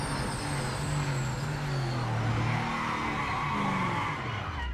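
Race car in Project Motor Racing braking hard into a corner. Its engine tone falls and its tires squeal and skid loudly for several seconds, with no voices over it.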